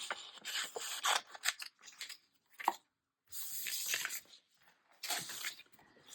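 Scissors snipping through paper at close range, in a quick series of short crisp cuts and rasping strokes separated by brief pauses, fairly quiet, with no talking.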